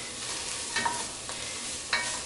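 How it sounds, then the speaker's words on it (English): Carrots, celery and onions with herbs and garlic cooking in a pot as a mirepoix base for chicken pot pie soup, a steady close sizzle broken by a few spoon scrapes and clinks as the vegetables are stirred. "I'm going to give them a good stir, and I'm going to cook this until the onions are transparent"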